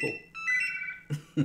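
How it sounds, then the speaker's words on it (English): A mobile phone sounds a steady electronic alert tone at a live comedy talk show, the beeping ringing out for about a second before voices break in over it. "Excuse me, that's my phone back in a tick."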